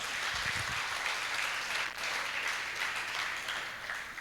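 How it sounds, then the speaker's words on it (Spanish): A church congregation at an evangelical service applauds together, a dense sustained wash of many hands clapping that carries on steadily for several seconds with no talking over it. "Dale un aplauso al Señor por la palabra."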